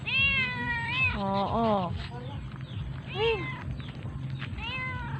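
A cat meows several times up close, drawn-out, wavering cries spread across a few seconds, while people speak nearby.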